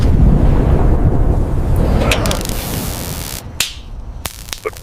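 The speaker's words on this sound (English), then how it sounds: "But thunder rolls." Low rumbling thunder rolls through a sheltered forest campsite as a storm closes in, a broad steady roar that fades, followed by a few sharp crackles near the end.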